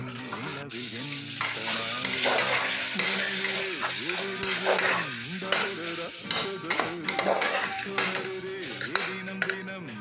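Mint, coriander, green chili and tomato fry for chicken biryani in a pan, a close steady sizzle broken by stirring scrapes and clinks, with a voice speaking over it.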